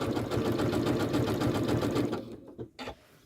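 A Janome sewing machine runs steadily, stitching around fabric with a fast, even mechanical whir for about two seconds before stopping, followed by a couple of short bursts.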